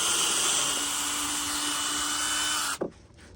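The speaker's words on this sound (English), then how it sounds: "We'll drill down." A power drill drives into wooden saw horse legs with a loud, steady whine that holds for nearly three seconds, then cuts off abruptly, leaving only quiet room noise.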